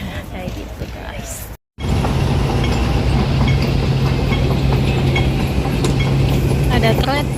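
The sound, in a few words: passing train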